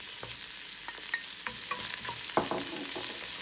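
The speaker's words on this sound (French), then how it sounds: "نضيف فيها البصله، l'oignon. Je le fais revenir dans l'huile d'olive." Onion frying in olive oil as it gets stirred in a pan, with soft sizzling and several light scraping clicks of a spoon, close and fairly quiet.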